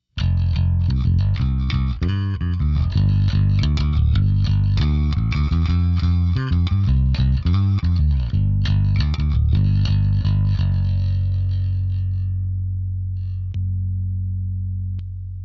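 An Ibanez BTB605MLM electric bass with its mid frequencies cut plays a quick, gritty riff with a hollowed-out tone, then settles into a long sustained note that slowly fades.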